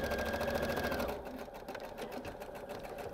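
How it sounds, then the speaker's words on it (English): Sewing machine stitching the center back seam of a bias-cut under collar, a steady close whirring run that slows and changes pitch partway through, continuous without pauses. "That center back seam of that bias under collar is what I'm going to sew first."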